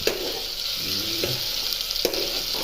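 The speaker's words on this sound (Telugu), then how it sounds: "సరే మనం కొంచెం కరివేపాకు కూడా వేసుకుందాం" Curry leaves hiss in hot oil for a steady close frying sizzle, punctuated by a couple of brief ladle knocks, with no talking.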